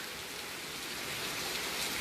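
Heavy rain pours steadily through the night during a storm, a dense, continuous hiss of drops on surfaces close by, loud and unbroken with no voices.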